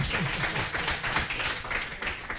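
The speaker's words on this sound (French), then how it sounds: "De toute façon, on les applaudit, hein, ils ont essayé." Studio audience applauding on a French TV quiz show, a short burst of dense clapping that stays even and close throughout.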